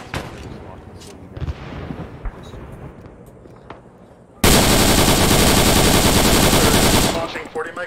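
Gunfire and artillery in the Vietnam War game SOG Prairie Fire: scattered shots and thuds under radio chatter, then a sudden sustained roar of heavy automatic fire and explosions for several seconds before it cuts off.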